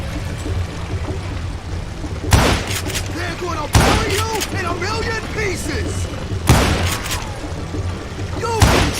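Gunshots from the Wild West video game Call of Juarez: four sharp, loud blasts spaced irregularly across the stretch, ringing over a busy bed of game ambience with voices underneath.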